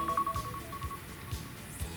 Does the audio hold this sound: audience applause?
no